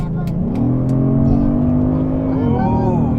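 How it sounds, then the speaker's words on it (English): 2019 Genesis G80 Sport 3.3T twin-turbo engine at full throttle, a loud rising growl that climbs in pitch, then drops sharply at a smooth upshift of the 8-speed automatic before building again, heard from inside the car. "I'm going to floor this thing and let you hear what this engine sounds like."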